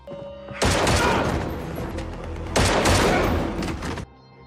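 Gunfire in an action film, with two dense, loud bursts of rapid shots and booms, each lasting a second or more, separated by a short pause and then ending abruptly.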